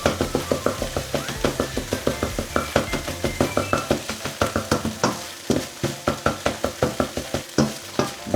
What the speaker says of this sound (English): Keep stirring there, keep breaking it up